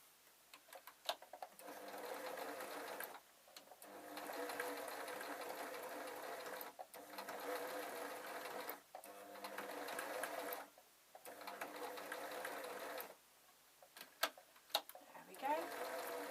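A sewing machine stitches fur fabric for a dog Christmas stocking in several long, steady bursts separated by brief pauses, with faint clicks near the end.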